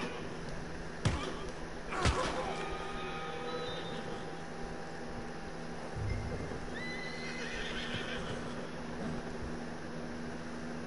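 A horse whinnies amid Red Dead Redemption 2 game ambience, with a couple of sharp thuds and hoof clops; the neigh is moderately loud over a steady background hum.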